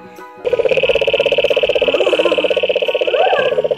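A frog croaks in a fast, continuous pulsing trill for about three seconds, close and steady, with faint background noise.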